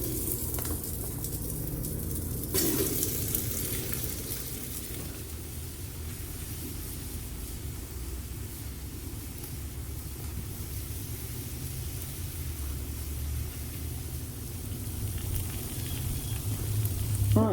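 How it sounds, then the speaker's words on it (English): Beef searing in a hot oiled pot on a Camp Chef grill outdoors, a steady broadband sizzle with a brief louder spurt early on, continuing evenly without talk. "We got our beef. I'm going to drop it in this hot pot."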